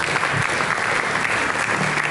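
A church congregation claps together at a worship service, dense and loud, with sustained applause filling the room and no pauses.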